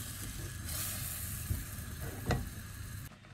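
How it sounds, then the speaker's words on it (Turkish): Flour toasts in melted butter in a pan with a steady soft sizzle, while a spoon scrapes and stirs a couple of times, all faint and close with no voices. "Ve birlikte kavuruyorum arkadaşlar erimesi için."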